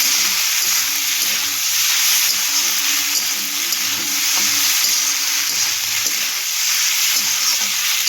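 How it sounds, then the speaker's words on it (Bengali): Pasta with a splash of soy sauce is stirred in a hot frying pan, producing a steady, loud sizzle and hiss that runs without a break, with faint spatula scrapes underneath and no talking. "সামান্য সয়া সস দিয়ে এবার ভালো করে একটু নেড়ে নেব"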